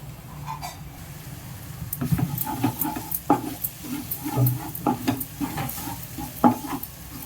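Eggs for tomato egg rice sizzle in a pan while a spatula stirs and scrapes in irregular strokes, close and fairly loud, with no talking.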